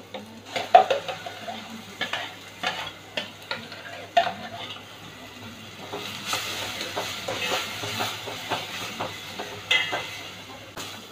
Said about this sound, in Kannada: ಇದು ಮಸಾಲ ಹಿಂಗೆ ಸ್ವಲ್ಪ ಫ್ರೈ ಮಾಡ್ತೀನಿ, ಒಗ್ಗರಣೆ ಜೊತೆ ಫ್ರೈ ಮಾಡ್ತೀನಿ